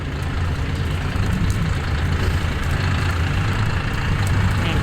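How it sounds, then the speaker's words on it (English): A tractor fitted with forks idles and moves nearby on a ranch, its diesel engine producing a loud, steady low rumble throughout. "coming over with the tractor to come haul it out of the way with the forks"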